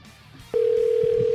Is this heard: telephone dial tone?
yes